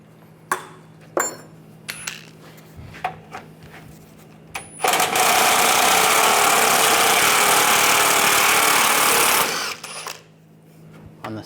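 Power tool running a 12mm socket on bolts underneath a 1996-2002 Toyota 4Runner, a steady whirring burst of about five seconds after scattered clicks and clanks of handling, close and loud.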